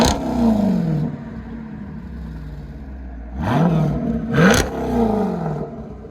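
A 2022 Dodge Durango SRT 392 with a 6.4L HEMI V8 and Borla ATAK cat-back dual exhaust backs out. It rumbles loudly at close range and rises through two sharp throttle blips before settling back to a deep idle.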